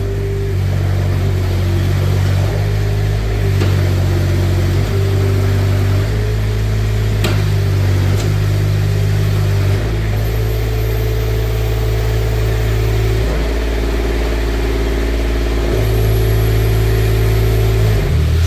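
A 2024 Manitou TMM45 4W telehandler's engine runs close by with a steady, deep, droning rumble, shifting in pitch a few times as if revved slightly, with no talk over it.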